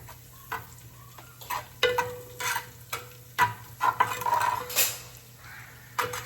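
Curry leaves and mustard seeds sizzling in hot oil, sharp crackles and spatters together with metal stirring clinks against the pan, close and irregular, no voices.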